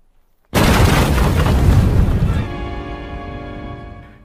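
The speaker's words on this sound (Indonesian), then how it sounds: "granat itu tiba-tiba meledak" Silence, then a sudden loud grenade blast erupts into a sustained roaring boom that slowly fades into a ringing tail.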